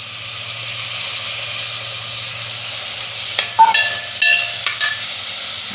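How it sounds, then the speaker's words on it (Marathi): Soaked masoor lentils going into a hot pan: a steady sizzle throughout, close and fairly loud, with a few clinks and stirring scrapes partway through. "हे भिजवलेला मसूर घालूया."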